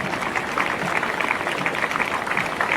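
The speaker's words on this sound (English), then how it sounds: "So please, a big applause for the volunteers who made this" Applause for the volunteers at a European para-archery championship ceremony, a steady, even wash of clapping from a large crowd filling the whole moment with no talk over it.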